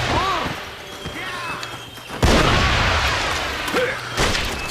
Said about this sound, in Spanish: ¿Cómo sobrevivir en una explosión así?